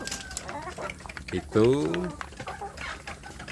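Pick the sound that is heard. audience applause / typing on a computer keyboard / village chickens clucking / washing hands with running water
village chickens clucking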